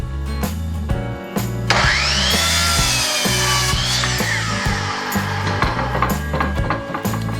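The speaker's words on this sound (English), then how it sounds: "So I cut away the already curled mold." A hand saw cuts through curled wooden molding with steady, rhythmic back-and-forth strokes, close and fairly loud, with no voices over it.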